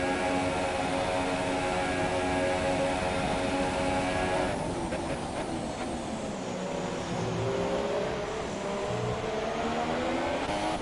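Formula 1 race cars in a racing video game at the Japanese Grand Prix, a Ferrari and a Mercedes chasing a Williams, with steady loud engine whine shifting pitch as the cars pass through corners, continuous throughout.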